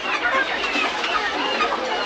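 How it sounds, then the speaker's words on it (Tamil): Chickens cluck amid dense, noisy bustle at a street chicken shop in Madagascar, the fowl calls close and mixed into a loud, steady wash of market background sound. "இந்த இதுக்குள்ள முழுக்கெல்லாம் கோழிகள்லாம் முயலும் இருக்குது போல்"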